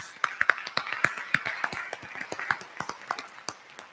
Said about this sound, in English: Please give our sponsors a round of applause.